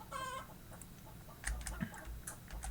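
Chickens in a Roblox game cluck in short bursts over a low background hum, with a few sharper clucks near the end; no talking.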